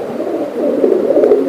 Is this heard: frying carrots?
no